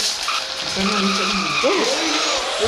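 Car tires skidding and squealing in a Roblox racing game, a continuous screeching slide with rising and falling squeal tones over steady engine noise, loud and close throughout with no talking.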